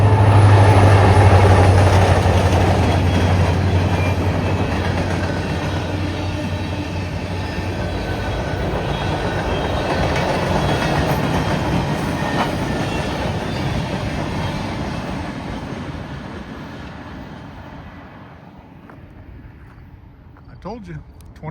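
A short freight train rumbles past with clattering wheels and a low horn at the start, the noise swelling and then fading away as it recedes.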